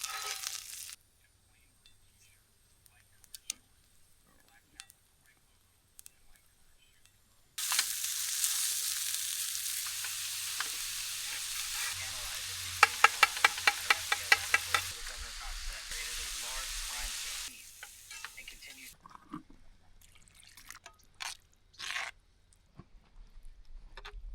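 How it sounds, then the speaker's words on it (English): Ultra crispy hash browns fry in a pan at a high-altitude camp, a loud steady sizzle starting partway in and dropping off near the end, with faint clinks and quiet stretches around it. "So we got sausage gravy on top of ultra crispy hash browns with no salt or pepper."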